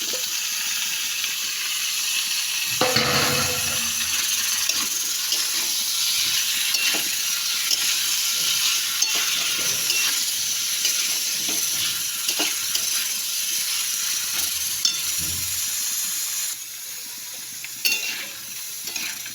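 Vegetables going into a hot pan for a Bengali pui shak dish with ilish fish head give a steady loud sizzle and hiss of steam, with a few stirring scrapes.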